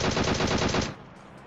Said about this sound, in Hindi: मैंने गोलियां पेली बहुत डैमेज दिया